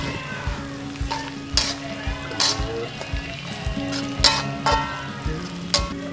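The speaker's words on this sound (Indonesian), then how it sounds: "Sekarang kita goreng ikan teri dulu guys." Anchovies (ikan teri) fry in a pan, a continuous bubbling sizzle at close range with scattered sharp crackles and spits breaking through a steady oily hiss.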